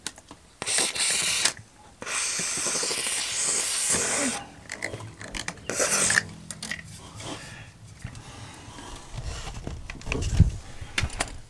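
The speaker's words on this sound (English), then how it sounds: "I'm going to go ahead and take that dry lube and get the gears really good" Dry lube sprayed onto the gears of a camper slide-out, heard as bursts of close aerosol hiss of a second or two each, with quieter handling noises between sprays.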